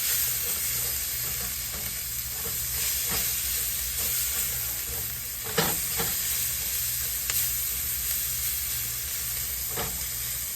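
Oyster mushrooms with a pinch of salt and taco seasoning sizzle loudly in a hot pan, with a steady hiss broken by a few sharp scrapes and knocks of the spoon as they are stirred.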